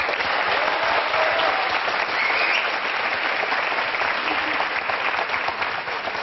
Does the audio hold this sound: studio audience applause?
yes